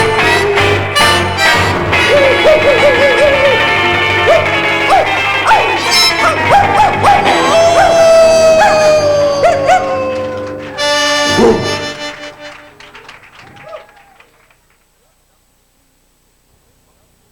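A live bar-band crowd barks, yips and howls in imitation of big and little dogs, a loud chaotic chorus of voices over music that breaks off and fades to near silence.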